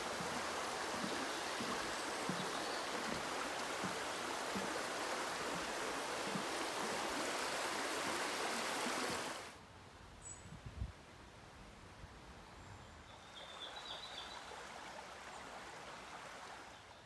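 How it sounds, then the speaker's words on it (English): The River Nidd flows under a bridge in North Yorkshire woodland, a steady broadband rush of water that drops off sharply partway through to a quieter, more distant murmur. "Bridge over the river Nidd."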